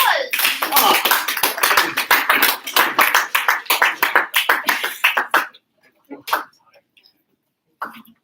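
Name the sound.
audience applause after a class presentation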